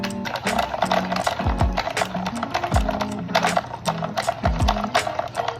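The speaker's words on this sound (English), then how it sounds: "I'm gonna just feed my yarn through the yarn winder" A yarn winder spins yarn into a ball, making a steady mechanical whir with rhythmic clicking and low knocks that run continuously and close by, with no voices.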